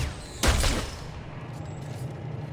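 An Uzi-like gun fires once in Dead Space 3, a single close blast with a short rattling tail that fades into a quiet hum.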